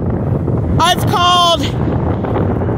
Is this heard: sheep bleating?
no